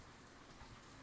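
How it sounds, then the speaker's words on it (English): Steady, faint rain hisses continuously across the whole moment, a soft even wash of falling drops in the background with no voices. "Wow, rain. I'm sorry for that if you can hear it in the background."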